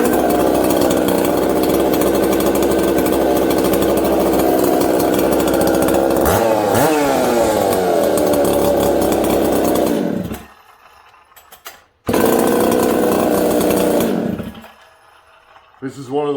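A Homelite 66 chainsaw runs loud and steady near at hand, revving down partway through, cutting out briefly, then firing back up and idling down again.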